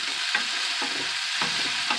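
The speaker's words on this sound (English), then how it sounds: "I got that sizzle going really good" Shrimp sizzles and crackles steadily in a hot pan, with soft stirring scrapes every half second or so.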